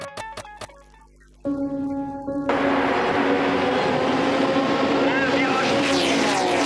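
Le Mans prototype race cars, Audi and Toyota, scream past on the track, a sustained high-pitched engine wail that swells loud and holds, with a commentator talking over it.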